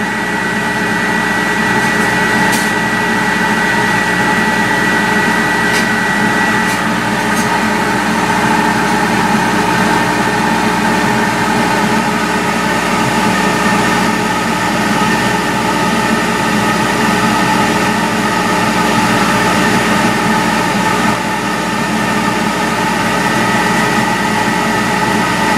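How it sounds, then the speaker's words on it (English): Laser cutter etching, heard as a loud, steady mechanical drone with constant fan and motor hum and faint ticks throughout, continuous and close with no talk. "Laser head actually beginning to etch in."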